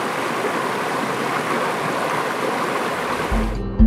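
Water of the Biedouw River rushing down a mountain gorge, a steady broadband roar of flowing current that continues evenly before cutting off abruptly near the end.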